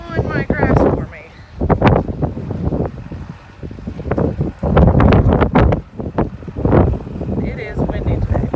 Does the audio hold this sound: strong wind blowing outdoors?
yes